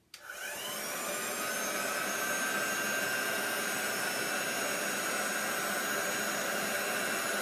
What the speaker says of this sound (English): I'm going to zap that with my heat gun